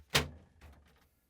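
A refrigerator crisper support frame is pushed in and lowered, giving one sharp plastic knock followed by a softer rattle, close and fairly quiet in a still room.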